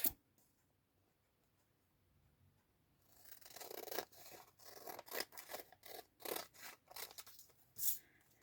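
Scissors cut through brown envelope paper in a run of crisp, rhythmic snips, close and fairly loud after a quiet start.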